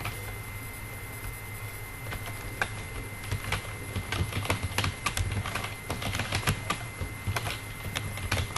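A name being typed on a computer keyboard, irregular close key clicks in quick bursts over a low steady hum.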